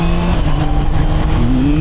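A Honda CBR 650 motorcycle with E-Clutch pulls away hard, its engine droning loud and close with a steady rising pitch as it accelerates on a quick ride.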